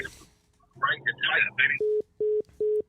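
A caller hangs up on a radio call-in show: a voice speaks briefly, then three evenly spaced electronic beeps of a disconnected line sound out clearly.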